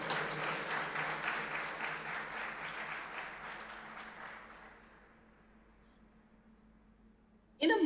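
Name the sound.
applause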